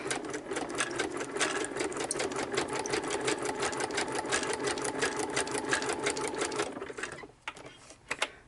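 A sewing machine stitches tags onto junk journal cards, running at a steady rapid rhythmic clatter for about seven seconds before it slows and stops, close up and with no speech.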